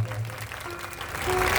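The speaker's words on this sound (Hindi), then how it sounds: "एक बार जोरदार तालियां बजाते हैं।" Applause from an audience at a village Bhagavat Katha religious gathering at a Durga Mata temple, a short burst of clapping that builds toward the end with a faint voice and tonal sounds underneath.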